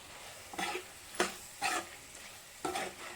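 Liver fry seasoned with salt and chilli powder is stirred in a pan, giving four short scraping strokes at an uneven pace, close and moderately loud, with no talking.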